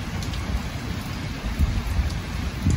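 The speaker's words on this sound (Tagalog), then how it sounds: "it's getting slower and slower, the rain" Rain falling steadily in Japan, a soft, even patter of drops on surfaces with a low rumbling wash underneath, continuous throughout and free of talk.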